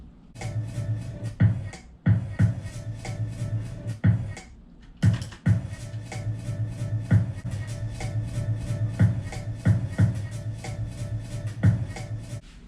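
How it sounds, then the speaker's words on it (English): Sampled shaker hits made from theme-park sounds form a sharp, evenly spaced rhythm with a few short gaps, layered into a beat with a low, booming pulse underneath. "so move on to shakers."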